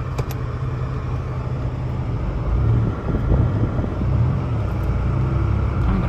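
Porsche 911 Turbo 3.6 (964) engine runs as a low, steady rumble heard from inside while driving, with some wind noise and a slight swell midway, no voices.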